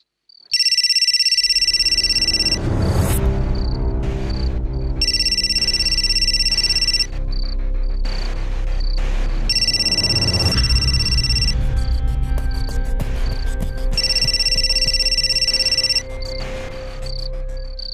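A telephone rings over and over without being answered. Four bright bursts of ringtone repeat at an even rhythm over a constant low background hum, and no one speaks.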